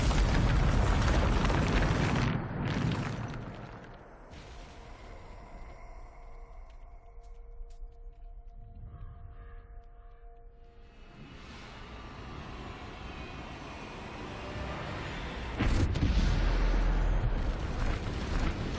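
A Bombarda explosion spell going off in a video game, with loud rumbling blasts at the start and end and a quieter, humming stretch between them.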